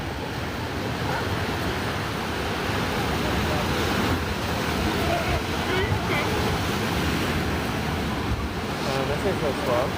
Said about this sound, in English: I can extract those ocean sounds